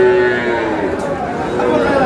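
Cattle mooing at the Raniganj livestock market in Dinajpur, where young bulls and heifer calves are sold: a loud, drawn-out low moo rises over a steady crowd murmur and scattered animal calls that fill the whole stretch.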